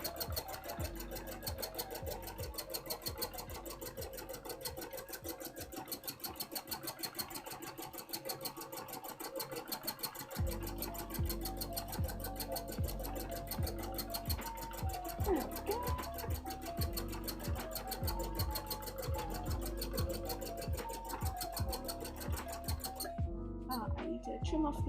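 A sewing machine runs in fast, rhythmic stitching bursts, steady and close, with a mechanical whir throughout.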